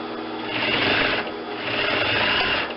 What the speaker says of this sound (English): sew down the second short edge